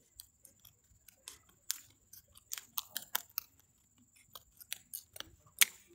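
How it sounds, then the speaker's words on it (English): Box being cut open with scissors or a blade, a series of sharp close snips and clicks in an irregular rhythm, fairly quiet and with no talking. "So how to open this type of box? Is you cut like this."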